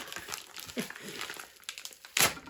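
A parcel package torn open indoors by hand, close crinkling and ripping of packaging in short bursts, ending in a sharp loud tear, with no talking.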